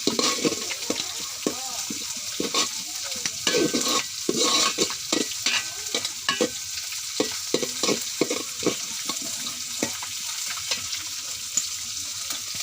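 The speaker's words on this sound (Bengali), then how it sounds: "এগুলো এখন তেলে ভেজে নেব।" Oil sizzles steadily as chopped onion and garlic paste fry in a pan, with repeated scraping strokes of a spatula stirring it.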